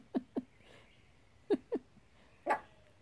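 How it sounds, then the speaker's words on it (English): A dog makes short, low vocal bursts, growl-like grumbles and soft barks in quick pairs, three clusters over a few seconds, close to the recorder in a quiet room. "What you growling at?"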